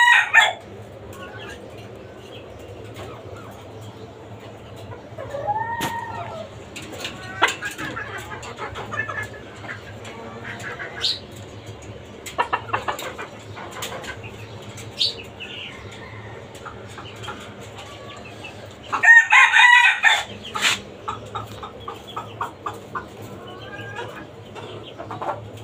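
Tiger chickens and native hens kept in cages on a rooftop farm, with a rooster crowing and hens clucking intermittently, some calls near and loud, others faint, over a low steady background hum.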